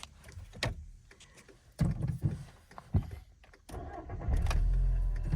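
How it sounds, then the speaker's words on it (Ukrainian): A Skoda Octavia 1.6 MPI with 200,000 km of original mileage gives a few clicks and short cranking bursts, then its engine catches and settles into a steady, close idle rumble. "Заводиться автомобіль з півоберту."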